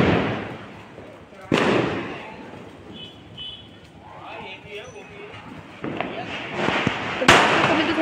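Diwali firecrackers burst in two sharp, loud bangs, one early and one near the end, with crackling and voices in the background between them.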